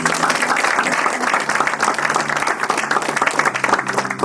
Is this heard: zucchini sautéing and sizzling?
no